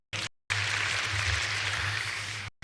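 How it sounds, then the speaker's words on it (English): An audience at a university public lecture applauds, a broad, even wash of many hands clapping that cuts in and out abruptly, with a low hum beneath it. "Clap for them as well."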